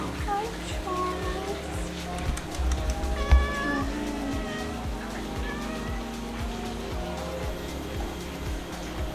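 A cat meows repeatedly at a resort in Ubud, Bali, a string of close, wavering cries that rise and fall over several seconds, with people talking faintly alongside.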